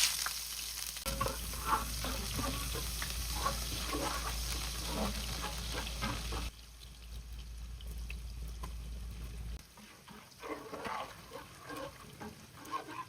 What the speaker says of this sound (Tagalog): Sa same na pan, igisa ang onion and garlic for a few seconds.